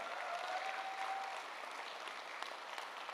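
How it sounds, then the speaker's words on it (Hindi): Applause from an audience at a motivational leadership talk in India, a steady dense clatter of many hands filling the whole moment without a break, fairly distant and even in level. "एक बार जोरदार तालियां लेडीज एंड जेंटलमैन, जोरदार तालियां"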